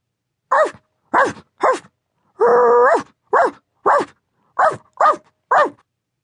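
A small dog barks sharply about nine times in quick bursts, close by, with one longer whining yelp in the middle.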